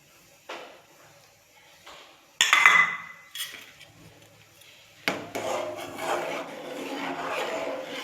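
A spoon scrapes and rubs through a gram flour mixture in a cooking pot, with short scrapes early, a sharp clank, then a longer run of steady, close stirring.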